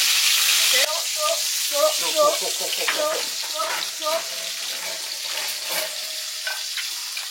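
Meat sears on a barbecue with a steady hiss, broken by crackling pops and short spitting bursts.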